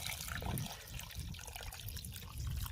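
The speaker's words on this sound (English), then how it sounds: "Then we've got our filtered water. We probably want to bring that up just above that ham hock." Filtered water pouring into a cooking pot over a ham hock, a steady close splashing trickle that continues throughout without talk.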